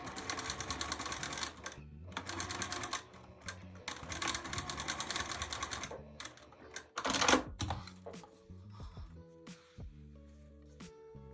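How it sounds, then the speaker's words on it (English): A sewing machine runs in quick bursts, top stitching along a zipper while assembling an unlined nine-patch bag, with rapid mechanical stitching, pauses between runs and a few handling clicks near the end. "top stitch there on top of the zipper, and then simply sew through it"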